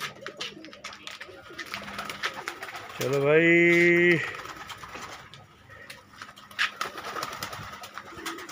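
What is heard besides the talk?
pigeons cooing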